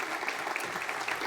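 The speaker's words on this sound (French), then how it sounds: "on peut l'applaudir" Audience applause greets a singer being introduced before she performs two songs at a talk on heritage; dense, steady clapping fills the whole short stretch at a moderate distance, with no clear voice over it.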